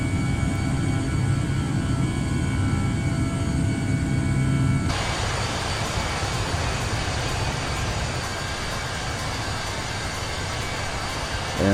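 Jet airliner engines drone steadily during a climb in Microsoft Flight Simulator, a dense, tonal roar that shifts abruptly midway to a broader, hissier rush as thrust changes, with no talking.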